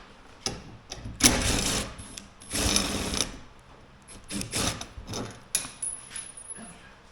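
Bolts are taken off the metal frame of an IBC tote with a power tool, which runs in several loud whirring bursts of one to two seconds each, separated by short quiet gaps.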